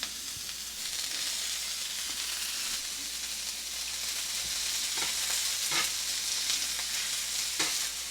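Onions sautéing in beef tallow on a hot cast iron flat top make a steady close sizzle, with a few sharp scraping clicks scattered through and no talking.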